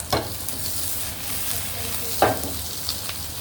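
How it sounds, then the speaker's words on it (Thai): Chopped onions sizzling as they are stir-fried in a pan for a Thai stir-fry of chicken giblets with banana peppers, steady frying hiss broken by a few scraping stirs near the start and middle. "หอมใหญ่นี่ต้องผัดก่อนนะครับ"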